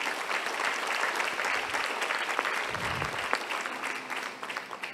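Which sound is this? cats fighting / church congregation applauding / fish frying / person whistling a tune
church congregation applauding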